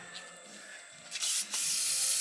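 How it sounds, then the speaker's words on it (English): Brake cleaner sprayed from an aerosol can while working on a Kubota motor grader, a loud broadband hiss in two close bursts, the second held steady to the end. "I don't understand guys that can just spray brake cleaner on their hands."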